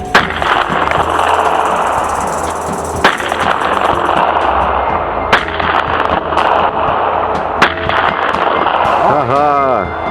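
Gunshots fired at a can outdoors, a few sharp cracks spaced apart, loud and close, standing out from steady background noise.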